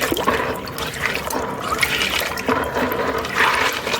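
Water poured over a dirty filter from a rooftop koi pond to rinse it, a loud, continuous close gush and splash that runs the whole time without talk.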